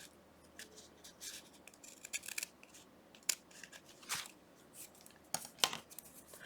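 Scissors snipping through paper for a junk journal, several separate close crisp cuts with light rustling between them and no talking.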